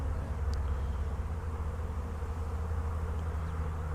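Honeybees buzz in a dense, steady, close drone throughout during a beehive frame inspection, with no talking heard.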